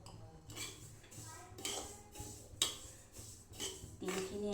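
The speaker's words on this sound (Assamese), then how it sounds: "তিলখিনি এনেদৰে ভাজিব যাতে তিলখিনি মচমচীয়া হয়" Sesame seeds are stirred and roasted in a wok for sesame laddoos, the spatula scraping the metal in a steady rhythm of short, fairly quiet clinks and rasps.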